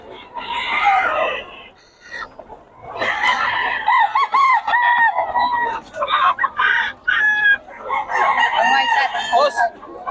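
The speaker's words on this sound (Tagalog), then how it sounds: "Mura ng mga manok na boss" Chickens and roosters cluck and crow loudly up close at a Pampanga poultry market, with repeated crows and bursts of clucking under occasional voices.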